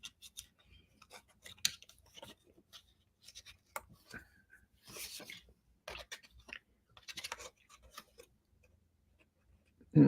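Little scissors snip in quiet, close bursts of short crisp cuts with pauses between, ending in a louder bump.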